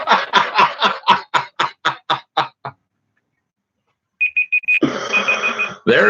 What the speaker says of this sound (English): There's my share timer.